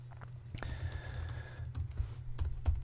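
Fast, light keystrokes tap on a computer keyboard in quick irregular bursts, close and fairly quiet over a low background hum.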